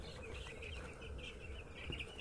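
Four-day-old broiler chicks on a poultry farm keep up a steady, overlapping chorus of high peeping, close and continuous across the whole stretch with no gaps.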